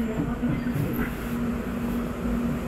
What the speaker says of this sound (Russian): Сел в девяточку трамвайчик, вот такого нового образца. Я в трамвае